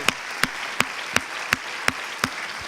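A church congregation claps together in steady unison, seven crisp, evenly spaced beats in quick succession, loud and close, with no talking over it.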